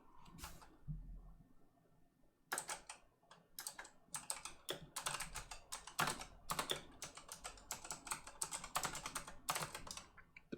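Rapid computer keyboard typing during a typing race game: bursts of close, crisp key clicks and spacebar taps after a brief quiet start, irregular and busy, with no speech.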